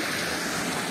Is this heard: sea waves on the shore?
yes